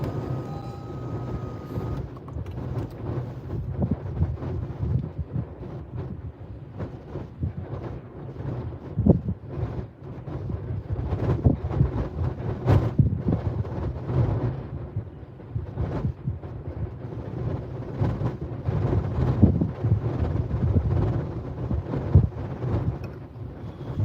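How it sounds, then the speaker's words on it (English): Strong, cold wind gusts across a microphone in the open desert at night, a steady low roar that swells and buffets in bursts throughout. "It's just a brutal wind shear up here."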